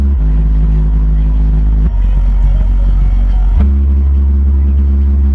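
Dual 10-inch Kicker subwoofers driven by a 1200W Kicker amp in a car trunk thump with deep, booming bass, loud and continuous, dropping out briefly in the middle before returning, with a rattling buzz from a loose license plate riding on the low tones.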